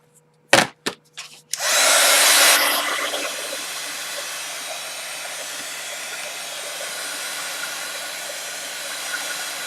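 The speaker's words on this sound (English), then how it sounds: "And I need to dry that, so I'm sorry, but here goes the gun again." A few sharp clicks lead into the steady, loud blowing roar of a heat gun drying splattered paint on a journal page. It settles into a continuous hum.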